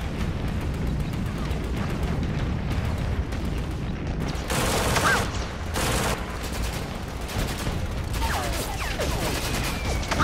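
Dense WWII landing battle with continuous gunfire, rapid fusillades and booming grenade explosions, loud and close throughout, with heavy blasts around the middle.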